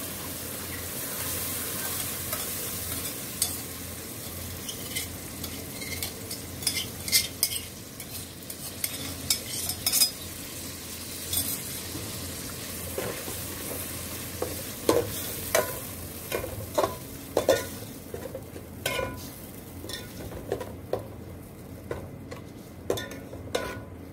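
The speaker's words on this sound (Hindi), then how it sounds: "अब मसाले को अच्छी तरह भूनेंगे।" Garlic and ginger paste masala frying in a pan for a white chickpea gravy, a steady low sizzle broken by repeated scraping and stirring clicks of a spoon against the pan, with no voices.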